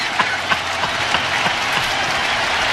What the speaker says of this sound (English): Crowd all on their feet at Rogers Center.